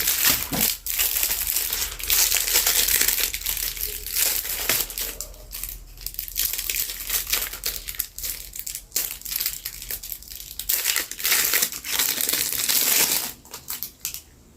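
Plastic packaging holding a product sleeve is handled up close, with continuous crinkling and crushing rustles in irregular bursts for about fourteen seconds, no talk over it.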